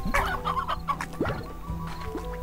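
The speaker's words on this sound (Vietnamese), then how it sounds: "tại sao mình bắn con gà vô mà nó lại không chịu ăn" Chickens in the video game Slime Rancher cluck in a rapid run of short, close calls, with a few sharper squawks scattered through and a steady game backdrop underneath.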